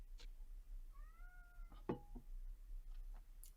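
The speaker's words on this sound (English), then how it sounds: "I hear a cat." A cat meows softly with a few rising tonal calls in the middle, quiet and somewhat distant over a steady low background hum, with a faint knock or clatter around it.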